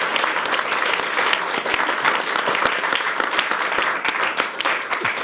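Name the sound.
studio audience applauding guest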